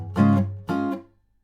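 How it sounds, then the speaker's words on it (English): Two short muted guitar strums in a song, each a brief chord cut off abruptly by releasing pressure on the strings, close and quiet. "so we release the pressure of the strings to create a stopping sound like this"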